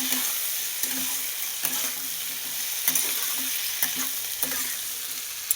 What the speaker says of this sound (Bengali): এবার আলুটাকে খানিকক্ষণ ভেজে নেব।